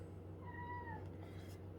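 A house cat meows in a kitchen, two drawn-out rising cries followed by a fainter third, close by over a steady low hum.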